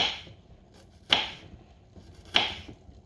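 Two sharp knife chops strike a cutting board about a second apart as bitter gourd is cut, close and crisp against a quiet background.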